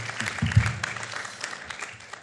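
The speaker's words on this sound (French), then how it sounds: "On peut l'applaudir." Audience at a French afternoon conference on the ZAN land-use law clapping after a talk: light, fairly quiet patter of applause from a modest crowd, fading gradually.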